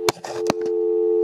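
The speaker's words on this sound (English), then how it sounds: "Dial tone." Rewired PMG 801 telephone gives a steady, continuous dial tone, held loud and unbroken after a few brief clicks and handling knocks at the start.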